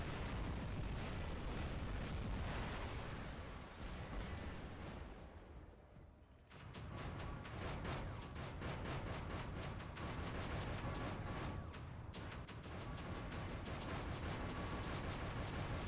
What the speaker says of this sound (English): while it's reloading, I can fire the Pinata.